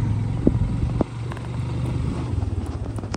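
A motorcycle rides up a rough, rocky mountain trail on the Pachpokhari trek in Sindhupalchowk, its engine a low steady drone with wind buffeting the microphone and a few knocks and bumps.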